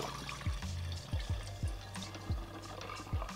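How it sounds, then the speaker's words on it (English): Junipero gin pours into a mixing glass with a steady liquid trickle and a few soft glugging knocks, close and fairly quiet. "So in here, I'm going to go ahead and pour 12 ounces or"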